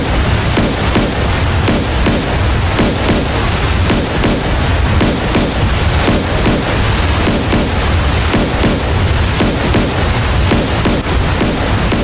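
Naval gunfire from a frigate shooting back in the DCS World combat simulator: a dense, continuous barrage of booming shots and bursts at a steady rapid rhythm, loud and unbroken throughout, with no speech.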